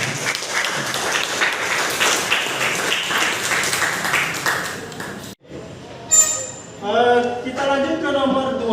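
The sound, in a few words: class clapping hands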